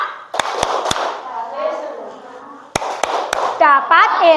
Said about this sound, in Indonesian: Sudah siap tepuk pulang?